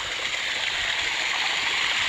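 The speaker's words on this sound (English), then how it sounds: "waterfall's going where it needs to go" A small waterfall pours into a pond built of fake rock, producing a loud, steady, close rushing wash of water that stays constant throughout, with no voices.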